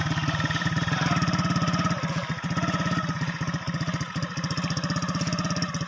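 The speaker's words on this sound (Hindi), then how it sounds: "ये देखिए दोस्तों, बाइक बिल्कुल स्टार्ट हो चुका है" Motorcycle engine running steadily after being started, a close, rapid even putter of regular firing pulses that holds level throughout with slight dips, no voices over it.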